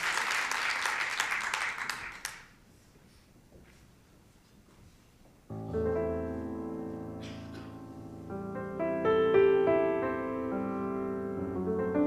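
Audience applause at a lecture, heard as a short burst of clapping that stops after about two seconds, followed by quiet and then live music with sustained instrumental tones.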